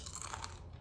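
Close, crisp crunching of keto chicken crackers being bitten and chewed, a quick run of dry cracks over under a second, with no talking.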